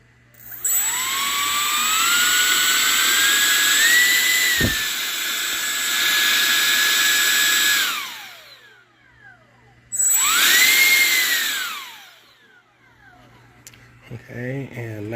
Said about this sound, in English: we'll start with the fan up front.